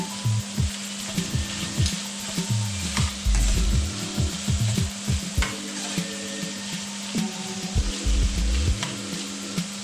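Chorizo links, 3.5-ounce size, browning in a pan with a steady close sizzle, broken by repeated scraping and knocking from stirring and tossing; no voices.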